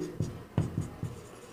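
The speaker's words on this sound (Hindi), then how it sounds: "पहला यहां पे लिख दे रहा हूं" Handwriting on a board during a class lesson, four distinct, close strokes in an irregular rhythm against a quiet background.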